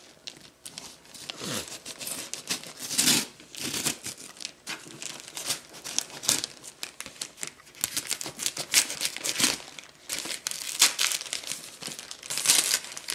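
A taped Amazon cardboard box being opened by hand, with dense crinkling, tearing tape and scraping cardboard in irregular bursts close by, and no talk.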